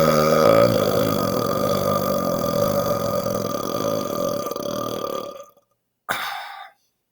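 A long, loud burp after drinking club soda rumbles steadily for about five seconds, ends abruptly, then a short second belch follows after a brief silence.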